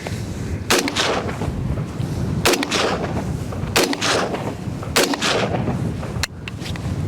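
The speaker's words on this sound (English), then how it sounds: "I'm gonna try and take a couple shots with that and we'll see if this does any better" An AR-15 fitted with a Bear Creek 7.62x39 upper fires five loud, sharp shots, spaced one to two seconds apart and separated by steady outdoor background noise, with no talk.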